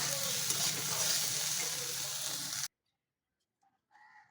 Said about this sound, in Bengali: বেগুনটা ভাজা হয়ে গেছে এবার তুলে নেবো